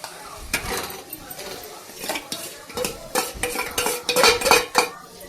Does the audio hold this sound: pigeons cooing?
no